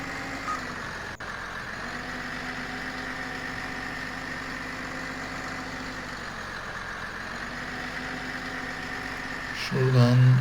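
A tractor engine in Farming Simulator 15 rumbles at a steady, close idle with a low droning hum, rising slightly in pitch near the end as it revs.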